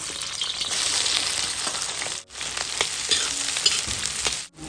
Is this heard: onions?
yes